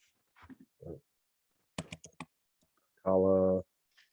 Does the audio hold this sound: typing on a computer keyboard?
yes